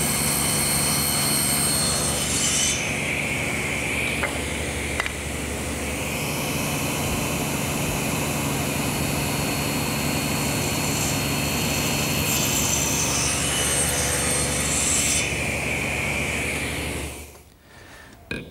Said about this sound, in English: And now I've set my table saw to 6 degrees to make the cross cuts.